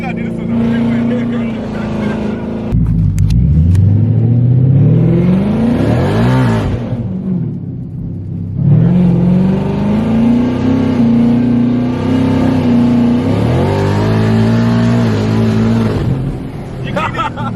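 Supercharged 10-speed Ford 5.0 running E85, loud engine roar climbing through gears under hard acceleration on a street, with shifts and excited voices talking over it.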